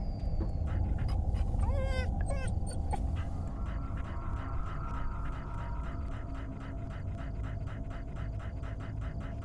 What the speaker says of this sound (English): first I gotta pet the doggo